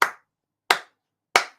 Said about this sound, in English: I'm going to give him the claps.